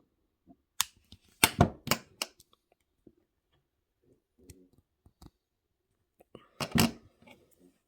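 Jewelry wire being snipped with cutters while making wire-wrap earrings: several crisp, close clicks and snips in a quick cluster, then a long pause and a final louder cut, in an otherwise quiet room.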